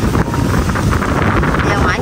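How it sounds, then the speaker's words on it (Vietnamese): Strong wind buffets the microphone outdoors on a trip with a grandmother and child, a loud continuous rumbling roar that fills the whole clip and leaves no quiet gaps. "gió quá gió."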